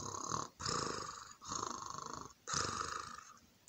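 A voice imitates a mole snoring, giving three long rasping, purr-like snores separated by brief pauses. The snores are close and fairly loud, and no other talk is heard.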